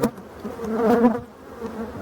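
Honeybees buzz in a dense, continuous drone at an open beehive during an inspection, close and steady, swelling briefly in the middle before easing back.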